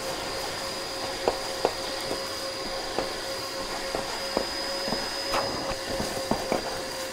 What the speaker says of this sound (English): We had a blockage there. We heard the vacuum.